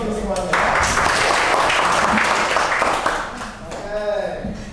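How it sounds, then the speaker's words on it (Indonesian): A class applauding during a long jump lesson on the hang style; loud clapping bursts in after a voice and holds for a few seconds, then fades as talking resumes. "Tepuk tangan buat kita semuanya."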